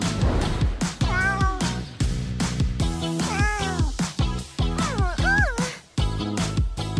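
Two cats meow repeatedly in rising and falling calls, close and fairly loud, over a steady rhythmic background of music.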